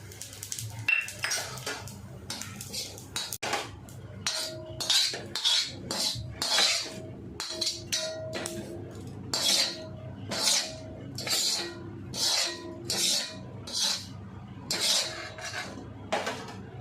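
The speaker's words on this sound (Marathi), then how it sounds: "आता आपण शहाजिरा भाजून घेऊ." Shahjira (caraway) seeds dry roasting in a pan with cloves already added, heard as repeated scraping and clinking strokes of a spoon against the metal pan in a steady rhythm, close and fairly quiet.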